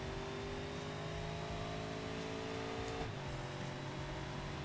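A car engine holds a steady, loud rev on a dyno in the BeamNG Drive driving game, a continuous droning whine whose pitch dips slightly about two-thirds through.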